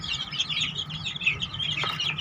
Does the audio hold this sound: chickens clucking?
yes